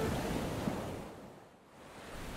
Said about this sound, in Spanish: el oleaje seguía siendo muy fuerte